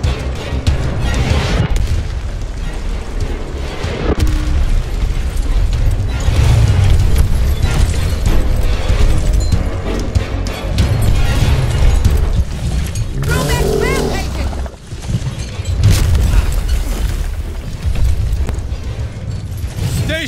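Heavy booming explosions from an artillery barrage in the tactical game Gears Tactics rumble loud and continuous, with deep blasts layered over one another and a brief dip before the pounding resumes.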